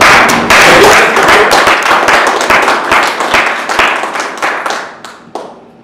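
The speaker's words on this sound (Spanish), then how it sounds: "¿Le puedes dar un aplauso al Señor?" A church congregation at a Spanish-language leadership workshop claps loudly for the Lord, dense clapping close by that starts abruptly and thins into scattered individual claps before fading out.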